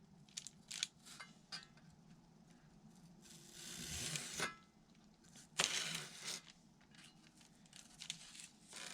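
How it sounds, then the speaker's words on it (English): An X-Acto blade scoring and cutting a soft wood part for a control line model airplane build, with scattered light ticks and scrapes followed by two louder, drawn-out slicing strokes, close and alone. "I'll take an X-Acto blade and I push it down and mark it right there"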